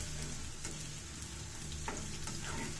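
Food frying in a pan during home cooking, a steady close sizzle running throughout with faint stirring clinks on top, no talking.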